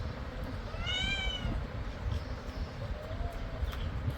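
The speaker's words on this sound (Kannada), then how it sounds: "ಬೆಕ್ಕು ಮಿಡ್ಲಲ್ಲಿ ಮಾತಾಡ್ತಾ ಇರ್ತದೆ ಆಯ್ತಾ." A cat gives a single clear meow amid a steady low rumble of household background noise, with no one talking.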